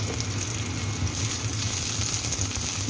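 Garlic and onion sautéing in a little oil, a steady close sizzle with faint crackle running evenly throughout, no talking.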